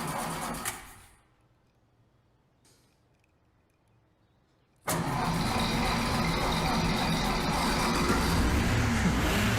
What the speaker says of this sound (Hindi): ये स्टार्ट भी नहीं होगी।